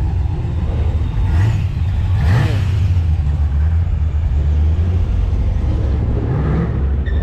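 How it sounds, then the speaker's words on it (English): A Chevrolet Camaro at a large JDM car meet, its engine droning in a loud, steady low rumble that swells in places, with other vehicle and crowd noise around it. "Got the Camaro that's being loud for no reason."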